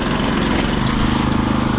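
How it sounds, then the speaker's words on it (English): Gas-powered garden tiller churning soil along a strawberry row, its engine running at a loud, steady drone close by with continuous rumble and no pauses. "You can probably hear the change in the engine too."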